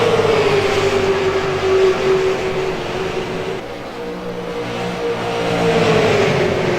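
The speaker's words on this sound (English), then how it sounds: "These cars just sound so mean, man." Race cars roar around a track, a loud steady engine drone with revs rising and falling as they run close by, with no talk over it.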